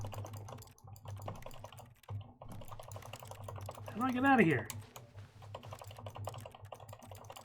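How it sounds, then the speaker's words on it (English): Computer keyboard keys pressed in a steady clatter of light, rapid clicks while playing The Stanley Parable, running under a quiet spoken voice with a brief louder vocal outburst partway through. "I'm pushing a different key."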